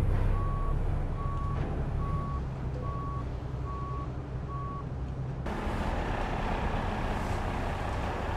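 Regular reversing beeps from a truck backing up in American Truck Simulator, six evenly spaced tones over a steady engine rumble, then the engine noise swells louder near the end.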